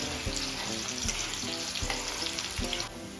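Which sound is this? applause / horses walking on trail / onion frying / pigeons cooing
onion frying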